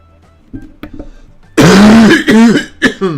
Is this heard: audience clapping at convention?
no